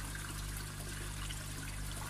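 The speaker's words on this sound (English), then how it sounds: "So the water's coming up, comes across here, down here, the water, across there, up this black pipe" Water trickles steadily through a homemade koi pond filter, a continuous soft splashing flow over a low pump hum, close by with no talk.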